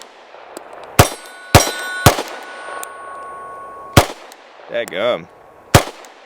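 Sig P365 pistol fitted with an Aim Surplus JTT barrel firing at a range, four loud sharp reports spaced irregularly with ringing metallic clangs of steel targets, and someone speaking briefly between shots.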